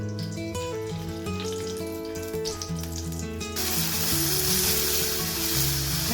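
Whole cardamom, cloves, nutmeg and cinnamon dropped into hot ghee for tempering, a sharp sizzle that swells loudly partway through and keeps hissing steadily over faint kitchen clatter.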